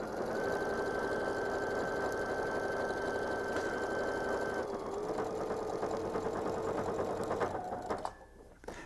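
A sewing machine stitches a bandana patch onto jeans, a close, steady mechanical whir running continuously before slowing and stopping near the end.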